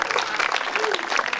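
A crowd at a rural mandal-level school sports closing ceremony in Chepur applauds donors with sustained, dense clapping from start to end, steady and fairly loud with a faint voice underneath.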